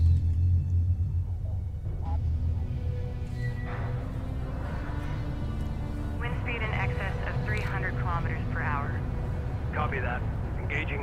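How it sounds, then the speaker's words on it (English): Deep, steady wind rumble of a storm front in the desert strategy game Homeworld: Deserts of Kharak, a continuous low roar with faint radio-style voice chatter and electronic tones layered on top. "There we go, that's the storm front."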